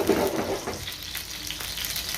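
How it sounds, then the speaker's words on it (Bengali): Fish fries in a pan with a close, steady sizzle and crackle, a little louder at the start, with no one talking. "মাছ ভাজা হচ্ছে।"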